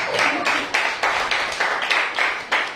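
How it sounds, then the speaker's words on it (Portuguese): Clapping in a church service, in rhythmic bursts roughly twice a second, fairly close and steady, with no talk over it. "Pode dar um aplauso pela vida dos assistentes?"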